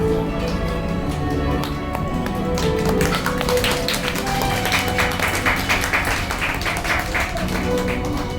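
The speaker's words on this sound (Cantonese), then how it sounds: "多謝你嘅掌聲" Audience applause breaks out after a Cantonese duet love song at a live restaurant and bar show, a dense, steady patter of many hands clapping over lingering music for the whole stretch.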